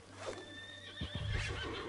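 Horse in Red Dead Redemption 2 gives a loud, drawn-out whinny, followed by snorts and a few hoof clops close by.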